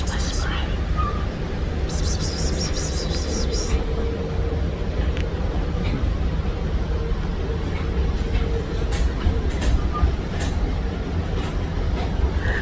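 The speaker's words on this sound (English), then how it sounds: "I'm on a train. I'm on the AMTRAK." Steady rumble and rolling rail noise aboard an Amtrak passenger train run throughout, with faint clicks and a soft voice murmuring underneath.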